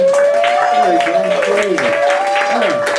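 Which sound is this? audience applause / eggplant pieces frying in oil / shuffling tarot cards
audience applause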